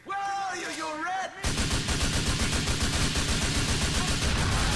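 Sustained rapid gunfire from Grand Theft Auto IV during blind fire, a dense, loud burst of shots running continuously after a brief lead-in with a voice in the first second or so.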